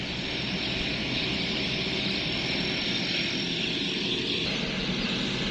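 A Sit Charoen Kan Chang combine harvester works slowly through a thin rice crop, its engine and threshing machinery giving a loud, unbroken droning roar.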